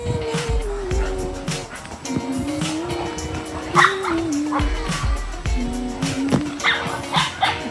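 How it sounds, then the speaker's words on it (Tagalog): Dogs scuffle near a youth camp, with repeated sharp barks, yips and whimpers in close succession over a continuous wavering whine, loud and close throughout. "May nag-aaway na aso?"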